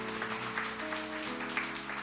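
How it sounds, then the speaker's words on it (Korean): A church congregation claps steadily in a dense patter of applause, heard over sustained instrumental music from the front of the hall. "우리의 감사 이유가 되시는 그 하나님 앞에 감사한 거에 박수 다시 한번 올려드리기 원합니다."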